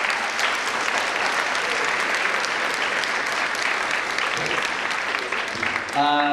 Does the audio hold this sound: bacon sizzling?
no